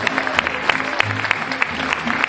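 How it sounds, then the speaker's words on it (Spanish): Crowd applause for a coffee queen at a beauty contest in Cuetzalan, moderate clapping with distinct sharp claps standing out over background voices. "para quien pedimos también un fuerte y caluroso aplauso"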